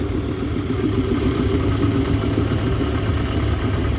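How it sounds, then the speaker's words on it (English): A Ford 7840 tractor idles at a steam rally, its diesel engine giving a constant, even low rumble close by with no talking over it. "The Ford 7840."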